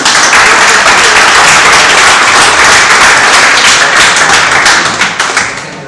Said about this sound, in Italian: un applauso a loro, vi chiedo.